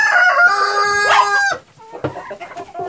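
A hen on a farm gives a loud, close cackling call lasting over a second, followed by softer clucks and rustling.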